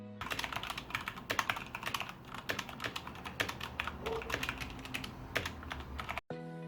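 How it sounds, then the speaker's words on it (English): Typing on an Ajazz AK33 RGB mechanical keyboard with red linear switches: a rapid, steady run of close, fairly quiet key clacks that stops abruptly near the end. "Here's a type test."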